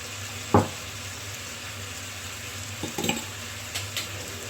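Chili paste sizzles softly in hot oil in a pan for a Thai prawn stir-fry, a steady low frying hiss with a sharp clatter near the start and a few light knocks later, no voices.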